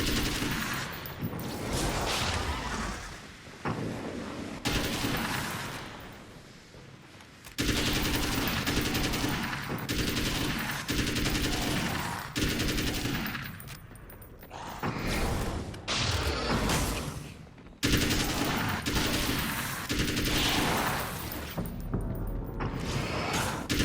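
Gunfire rattles through Alan Wake's American Nightmare in loud, sustained bursts of rapid shots with brief pauses between volleys, plus mechanical clicks and creaks.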